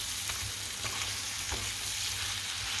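Onions fry in hot oil with chilies and curry leaves, giving a steady crackling sizzle close by, punctuated by soft stirring knocks, with no talking.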